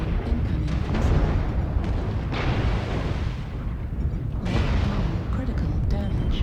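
Heavy booming blasts from incoming missiles in MechWarrior Online roll through a mech battle, several loud impacts in a row under a talking voice.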